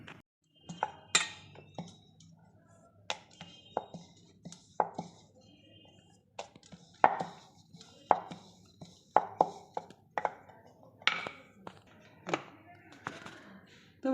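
Puri dough for pea-stuffed kachori is rolled out with a rolling pin on a board, giving irregular close taps, knocks and light clinks with quiet gaps between them.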